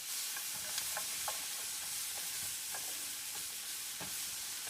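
Peppers frying over high heat in a pan, a soft steady sizzle with scattered clinks and scrapes of stirring, fairly quiet and close, no talking.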